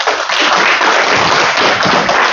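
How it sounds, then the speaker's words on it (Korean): A lecture audience applauds a tax-law speaker, dense continuous clapping from a crowd filling the short moment at full loudness. "박사님 박수 부탁드리겠습니다"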